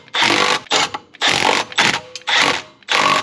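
A power tool with a 17 mm socket runs bolts down snug on a Kawasaki KRX clutch, giving six close, short whirring bursts separated by brief pauses, with no talk.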